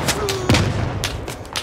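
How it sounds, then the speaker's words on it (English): Mortar fire in the Squad military video game, heard as a heavy boom followed by a few sharp distant blasts and cracks over a constant rumble of battlefield noise. "It's mortars."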